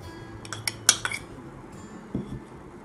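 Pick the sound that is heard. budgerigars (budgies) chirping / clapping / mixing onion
mixing onion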